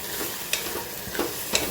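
Cut potatoes and onion fry in oil in a pan, giving a soft steady sizzle. Three brief scraping stirs cut through it at intervals.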